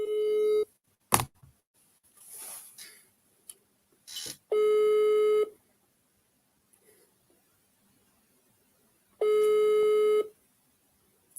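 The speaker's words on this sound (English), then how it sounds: "It's ringing." Outgoing telephone call ringing on the line, with two long steady tones about five seconds apart and some brief clicks and noises between them.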